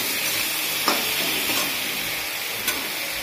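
Food sizzling loudly as it fries in a pan, a dense continuous hiss with a couple of sharp clicks of stirring, close by and without any talking.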